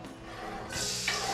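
Ginger hits a little hot oil in a pan: a quiet start, then a steady close sizzle swells up partway through and holds, with no talking.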